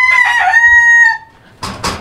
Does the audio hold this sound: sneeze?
no